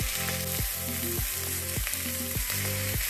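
A T-bone steak with rosemary sizzles loudly and steadily in a hot pan, with regular popping bursts about every half second over the continuous hiss.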